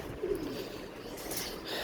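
Breeding pigeons in a loft give soft cooing calls, low and fairly faint, over a quiet background hum. No voice is heard.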